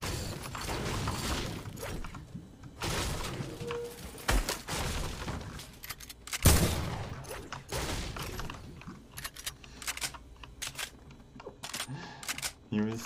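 Fortnite gunshots ring out as scattered sharp cracks amid in-game clatter and impacts, with one especially loud shot standing out midway through the mix.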